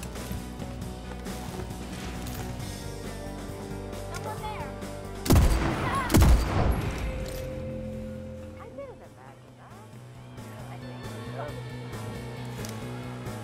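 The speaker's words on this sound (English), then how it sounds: "She's already shooting at me." In Deathloop, Julianna shoots, two sharp, loud gunshots in quick succession over game ambience, followed by fainter reports, with someone talking throughout.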